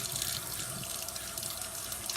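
Tap water runs steadily into a sink while paint brushes are washed under it, a continuous close hiss and splash of flowing water without talk.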